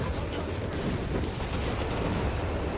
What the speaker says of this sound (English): Oh, massive artillery coming in.